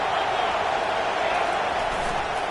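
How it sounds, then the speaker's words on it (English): A roaring stadium crowd at an American football game between Miami and Arizona, a loud, steady wash of cheering noise throughout. "Listen to this crowd."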